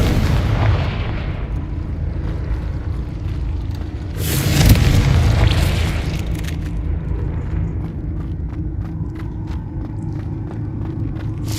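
A Confringo blasting spell goes off in the video game Hogwarts Legacy, giving loud, deep explosive booms and a heavy rumble. A sharp burst lands near the middle over a continuous low roar, with no speech.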